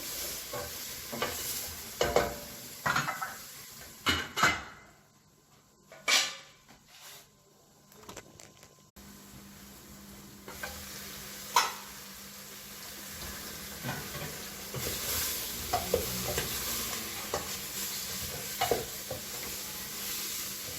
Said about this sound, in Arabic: صافي غادي نخليهم مازال يتقلا شويه